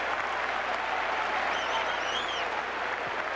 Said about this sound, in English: Now Ramirez helping lead the cheers from first base.